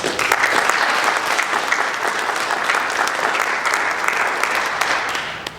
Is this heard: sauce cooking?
no